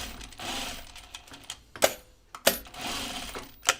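A domestic sewing machine runs in short bursts while back-tacking a seam on an unfinished project, with a whirring stitch run, a pause of sharp clicks and knocks, then another burst of stitching, close and fairly quiet.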